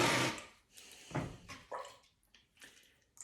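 Wet splashes and drips sound close by as fingers are dipped and wetted while pulling a clay handle for a ceramic mug, a few brief watery bursts over about three seconds.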